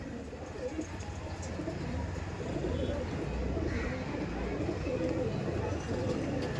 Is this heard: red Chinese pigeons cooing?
yes